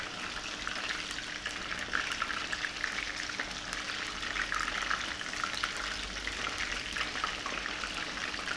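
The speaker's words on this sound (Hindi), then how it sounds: "तो हम कोशिश करेंगे फ्राई इसको हम एक एक करके करें" Cornflour-coated chilli chicken pieces frying one by one in hot oil, a continuous bubbling crackle with fine popping spatter, close and moderately quiet without speech.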